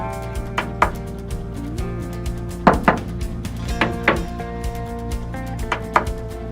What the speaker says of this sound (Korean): 내부 부대가 결합된 부분 같은 경우는 이렇게 탁탁한 소리가 나고